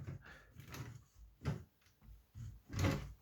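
A small door on a BlueBrixx Pro Stargate gate room brick model being opened, giving soft plastic clicks and gear-like rattles in several short bursts, close and quiet, with no voices.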